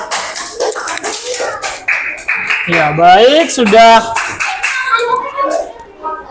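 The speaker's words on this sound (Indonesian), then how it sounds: "Tepuk tangan kelompok 4." Classroom applause for a student group: a burst of hand clapping rises under a teacher's voice, mixed with children chattering over it.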